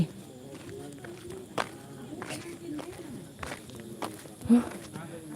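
Footsteps of people walking to a noodle shop, a few scattered soft steps with one or two louder thuds, heard under steady background chatter and voices.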